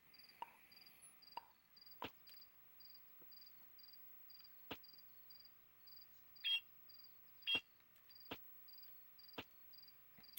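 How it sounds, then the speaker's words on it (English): Repeated electronic beeping warning from the Rock N' Roll Climber Wii climbing game, short evenly spaced tones in a steady rhythm, with scattered clicks and taps between them, fairly quiet and with no talking. "I'm not always sure what the beeping is supposed to signify. I think it's supposed to mean that I'm in danger of falling"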